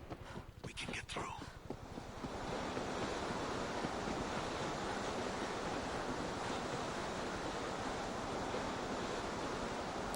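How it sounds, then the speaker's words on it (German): Water rushing in during a World War Z game level, a loud, broad, continuous roar like surging surf that swells up after a few brief sharp clicks and then holds steady to the end. "jetzt lässt das Wasser rein"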